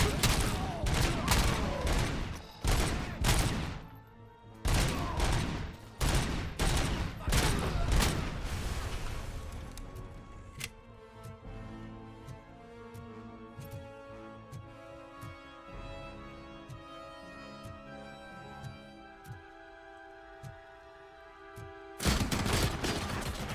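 Gunfire in RoboCop: Rogue City, dense rapid bursts of loud shots in the first half giving way to music and scattered quieter sounds, with another volley at the end and a voice talking at times.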